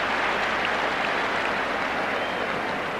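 Spectators at the Ireland versus Soviet Union qualifier keep up sustained applause for the departing Michael Walsh, a dense even patter of many hands clapping across the ground, slightly swelling and fading over a few seconds.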